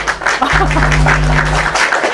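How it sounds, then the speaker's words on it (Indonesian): Audience clapping in a studio, a burst of loud hand claps with a low steady hum running beneath, brief and close. "Kasih tepuk tangan sekali lagi"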